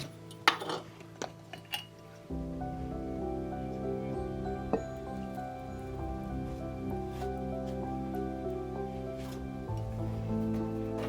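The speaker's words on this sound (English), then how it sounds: "I like to spend a moment here just stirring it together and adding more intent" A spoon clinks and scrapes against a glass jar as oil and ingredients are stirred together, starting with a few sharp taps and settling into a steady faint metallic hum.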